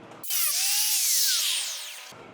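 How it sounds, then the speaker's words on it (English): An angle grinder cuts into steel roll-cage tube on an off-road racing car, giving a loud, sustained high-pitched whine that sweeps down in pitch under load for about two seconds before stopping. "I'm just gonna grind carefully and try to get this prepped good so we can get another good weld on it"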